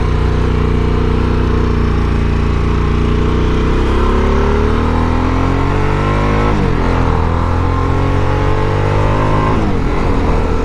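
A 2023 Harley-Davidson Sportster S accelerating in first gear, a loud, close engine roar rising in pitch steadily with brief dips at gear or throttle changes, continuous and without talk.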